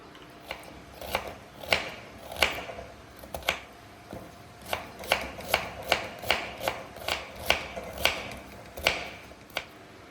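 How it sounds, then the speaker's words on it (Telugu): A knife slices a carrot into thin pieces on a board, a quick run of crisp, evenly spaced chops close by, pausing briefly midway before resuming in a steady rhythm. "ఇప్పుడు క్యారెట్ కట్ చేసుకోవాలి సన్నగా"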